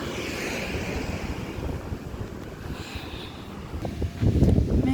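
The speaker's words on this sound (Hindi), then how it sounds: "तो समंदर का पानी बहुत शोर कर रहा है आज।" Loud sea waves wash steadily onto the shore, a continuous roar buffeted by wind noise on the microphone, with a stronger surge building near the end.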